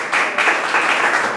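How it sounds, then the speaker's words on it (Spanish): Audience applause for a book commentator being introduced at a literary book presentation, a steady wash of clapping heard up close and filling the whole short moment without any talk over it. "Un fuerte aplauso para Roger Paredes Flores"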